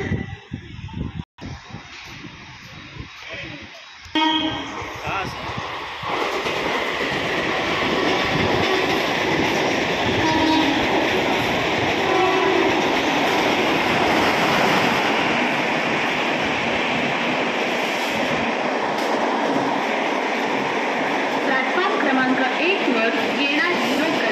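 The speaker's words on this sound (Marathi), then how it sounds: "प्लेटफॉर्म क्रमांक 1 पर आने वाली गाड़ी 5:43 की अंबरनाथ जाने वाली 12 डिब्बों की धीमी लोकल है" A Mumbai local electric multiple unit train rolls in with a rising rumble and rattling wheels, a loud steady roar filling the platform; a public address voice announces it early on.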